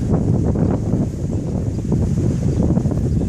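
Wind gusts blowing through an outdoor flower garden of tall-stemmed irises, heard as a steady rough buffeting rush on the microphone with no voices.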